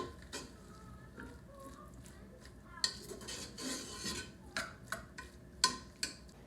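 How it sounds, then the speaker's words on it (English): Skim milk and butter are stirred together in a bowl, with a spoon giving light, irregular scrapes and clinks, close and fairly quiet, spaced by short pauses. "2 tablespoons of skim milk, and 2 tablespoons of butter. We'll mix it together."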